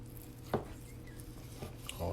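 A knife cuts through smoked brisket on a board, giving a sharp crunchy knock near the start and softer cuts later, faint against quiet kitchen background.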